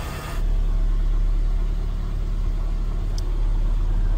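A Mitsubishi Evo X or Ralliart engine idles while warming up, a steady low rumble close to the microphone after a brief start, with no talking.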